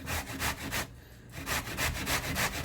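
Cheese grated on a hand grater, giving quick, rhythmic scraping strokes close up, with a short pause partway through before the strokes resume.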